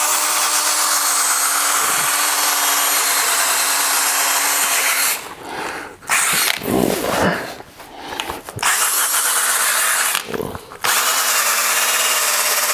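A drill-driven brush scrubs carpet cleaner into carpet with a loud, steady whirring buzz that breaks off twice, briefly giving way to a voice, before resuming.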